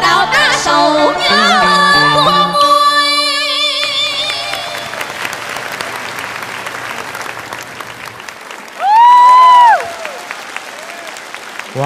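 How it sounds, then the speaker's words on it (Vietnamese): An audience at a cải lương singing contest applauds two contestants, with sustained clapping first layered under sung music and instruments, then continuing alone as it fades, before a voice briefly rises over it. "một tràng vỗ tay nữa dành cho hai thí sinh của chúng ta, Bình An và Hàn Ni"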